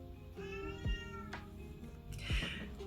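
A pet cat meows several times in close succession, clear drawn-out tonal calls with rising and falling pitch, loud and near with no talk over them.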